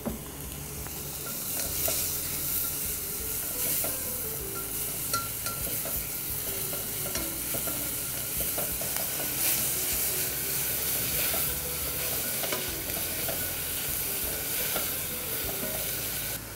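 The Spring Blender grinds sweet potatoes with their skins left on. A steady, hissing, gritty whir runs unbroken from start to finish at a moderate level.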